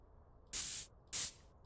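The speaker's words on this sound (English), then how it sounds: "you got to spray this stuff. And it'll show you where leaks are." Leak-detection spray used on pipes in Car Dealer Simulator video game: two close, loud bursts of hissing spray, each about a third of a second long, separated by a short pause over faint background noise.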